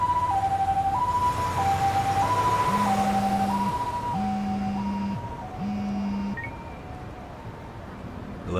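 An ambulance siren in the video game Lost Judgment wails in a steady two-tone pattern, loud and close at first. A lower alternating tone joins midway, then the siren cuts out and fades.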